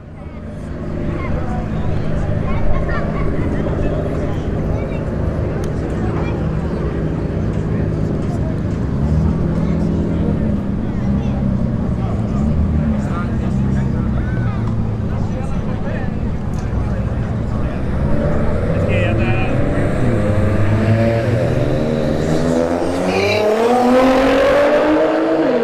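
Street-heat drag race at a motorsports park with a Nissan GT-R against a BMW 3 Series, engines roaring continuously and loudly, rising revs and a pass building toward the end, with a commentator talking over the noise.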